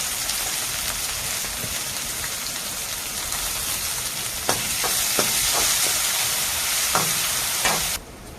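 Chopped onion sizzles steadily in hot oil in a pan with cumin, a dense crackling frying hiss with a few sharper pops, close and continuous with no voices.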